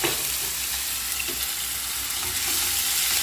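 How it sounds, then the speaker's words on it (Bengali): Spice masala of tomato paste, salt, turmeric and cumin paste fries in a pan for egg bhapa, giving a steady, close, continuous sizzle with no talking. "মশলাটা ভালো করিয়ে কষে নিচ্ছি"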